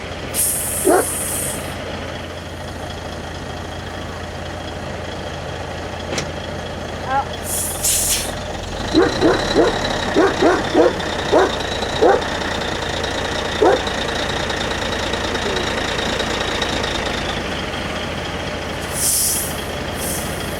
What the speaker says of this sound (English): looks like the well truck got here early while we're digging.